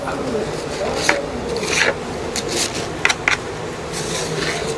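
At a busy vegetable market in Chennai, vegetables are cut several at a time. Rough rasping strokes come in short bursts over a constant background hum of market activity.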